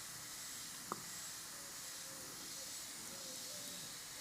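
An airbrush sprays paint in a steady, soft hiss that runs unbroken from start to finish, faint and close, with one tiny click early on.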